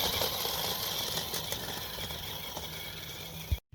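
A budget 6x6 RC truck runs at full throttle, its electric drivetrain giving a steady high-pitched whine with buzzing gear noise for a few seconds before cutting out abruptly.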